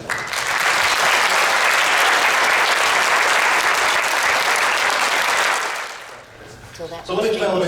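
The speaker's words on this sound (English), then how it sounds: "One big applause for everybody." Diners at a county public safety appreciation dinner break into loud, sustained applause that fills the room for about six seconds, then fades as a voice begins speaking.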